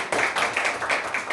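Lecture audience at a well-dying counselor training seminar claps in a short burst of rhythmic, moderately loud hand claps, roughly evenly spaced, with no speech over them.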